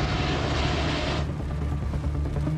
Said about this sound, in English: The plane touches down, but it's overweight, and only around half the brakes work.